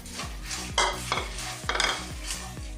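Puffed rice mixture being tossed and stirred in a pan with chili powder, salt and sugar, a steady run of scraping, rustling strokes with light metallic clinks, close and alone.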